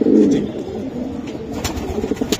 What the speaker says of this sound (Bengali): এটা হলো গ্রিজেল কবুতর